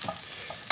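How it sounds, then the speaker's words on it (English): A spoon stirs cinnamon through onions frying in a pan for pilau rice, giving a brief soft sizzle with a couple of light scraping strokes, close and quiet. "So make sure that cinnamon's mixed in"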